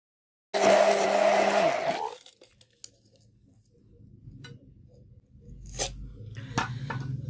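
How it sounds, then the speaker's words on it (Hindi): A blender whips a milk mixture for a homemade skin pack into a creamy consistency, a loud motor roar lasting under two seconds, then quiet clinks and small handling sounds. "इसको अच्छे तरीके से ब्लेंड करना है और इतना ब्लेंड करना है कि ये एक क्रीमी फॉर्म में आ जाए"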